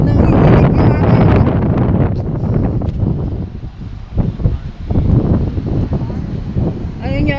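Strong wind buffets the microphone in Sonoma, California, with loud, rumbling gusts that rise and fall continuously over the whole stretch.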